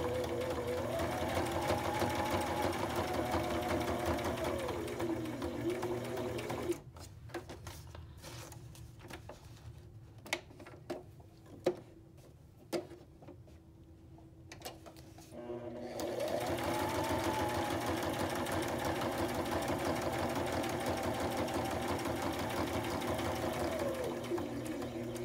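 A sewing machine runs slowly and steadily while stitching a pocket, stopping for about nine seconds midway amid light handling clicks, then resuming at the same close, even hum.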